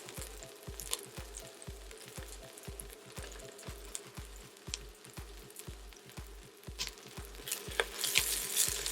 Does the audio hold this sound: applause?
no